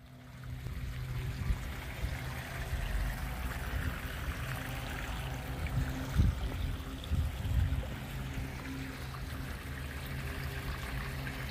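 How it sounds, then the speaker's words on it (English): Water flooding a flat roof deck during a leak test on a building with large wall cracks, a steady pouring and trickling rush with a low, continuous wash underneath and no voices. "So we're flooding this flat deck."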